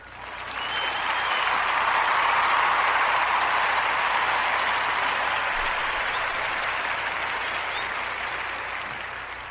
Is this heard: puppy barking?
no